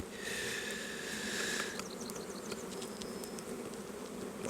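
Honeybees buzz close by during a honey harvest at the hives, a soft steady drone with one bee's whine passing near before fading into the general hum.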